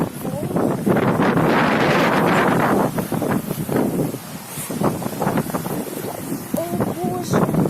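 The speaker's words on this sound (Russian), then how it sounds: "Очень сильные волны, вообще сильный ветер" Strong, gusty wind buffets the microphone on a rough Greek seashore beside a closed pier, with big waves breaking. A loud, steady roar runs throughout, with a short voice near the end.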